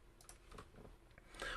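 Keys on a computer keyboard, including the F4 function key, are pressed during spreadsheet work, giving a few soft, faint clicks close by with no talk.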